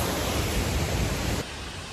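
Waterfall beside the trail at Joffre Lakes gives a loud, steady hiss and roar that drops to a softer level partway through.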